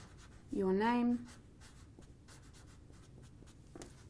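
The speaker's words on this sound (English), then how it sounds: "So maybe write down your name" A black marker scratches across a paper pattern in short strokes, heard close up as soft, brief squeaks after a loud spoken phrase.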